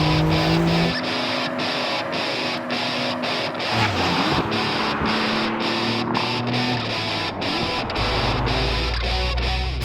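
A 2020 Porsche 911 Carrera S (992) driven hard on the Circuit Ricardo Tormo racetrack in Spain: a loud engine rises and falls through rapid gear changes, with brief tire noise.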